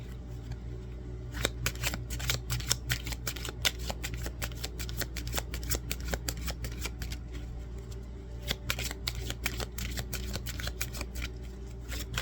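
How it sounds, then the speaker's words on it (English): Romance Angel oracle cards being shuffled: a rapid, continuous riffling flutter of card edges, close and fairly quiet, running throughout with no speech. "Pull one more card with the Romance Angel cards."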